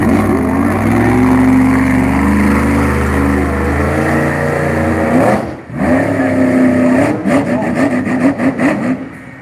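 A monster truck engine roars loudly at a fairground show, holding a heavy rumbling idle that briefly cuts out, then picks back up with rough, uneven throttle surges.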